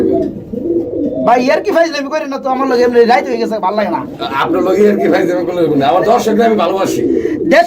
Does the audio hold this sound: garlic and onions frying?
no